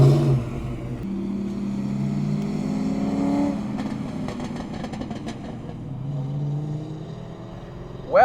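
A small car pulls away and drives off. Its engine note rises and holds steady, fairly close, then fades as it moves away.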